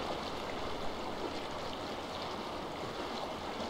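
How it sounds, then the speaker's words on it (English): A waterfall flows in Warcraft 3 Reforged, giving a steady, broad rushing of water that holds at an even, fairly quiet level with no voices over it. "I heard the waterfall answer you."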